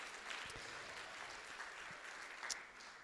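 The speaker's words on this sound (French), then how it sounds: "On peut l'applaudir," A church congregation claps during a Sunday service, a faint, steady patter of many hands heard from a distance for about three seconds.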